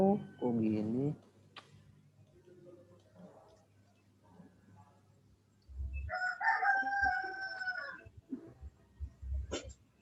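A chicken crows once clearly and loudly in the middle, with a short bird call near the start, while people talk quietly and some clicks and thumps sound around it.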